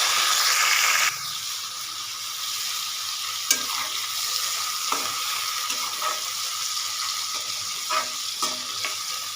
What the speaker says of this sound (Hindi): इसको थोड़ा सा फ्राई कर लूँगी इसमें